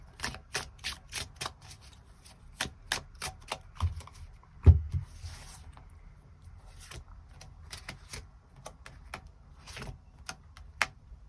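Tarot cards are shuffled and drawn close up, giving a quiet series of soft, irregular slaps, flicks and riffling taps with brief pauses between them and no talking.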